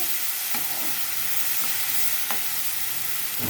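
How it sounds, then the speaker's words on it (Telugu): Onions and green chillies fry in a pan, giving a steady loud sizzle with a few faint stirring scrapes and clicks, with no voices over it. "తర్వాత ఆనియన్స్ పచ్చిమిర్చి వేసేసాను."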